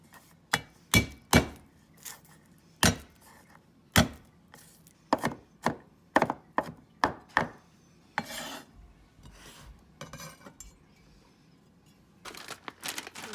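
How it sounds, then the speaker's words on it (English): A knife slices through an onion on a cutting board in a run of sharp, close chops, some in quick bursts with short pauses, then softer scraping cuts toward the end. "I'm going to slice the onion."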